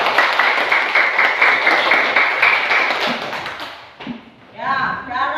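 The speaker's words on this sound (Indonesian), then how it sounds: "Kita tepuk tangan buat kelompok 2." A classroom of students claps for a group that scored full marks, a dense steady patter of many hands lasting several seconds before fading, followed by a teacher's voice speaking.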